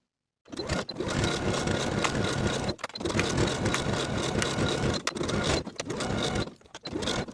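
A sewing machine stitches a seam in non-fraying T-shirt knit fabric with a narrow zigzag stitch, a steady close-up mechanical whir running in long continuous bursts with brief pauses between them.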